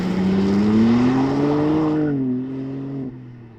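BMW M2 engine revs with a rising, tonal exhaust note that climbs, holds and then drops away as revs fall, loud and close with no talk over it.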